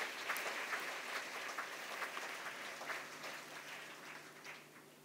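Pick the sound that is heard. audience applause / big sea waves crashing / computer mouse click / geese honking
audience applause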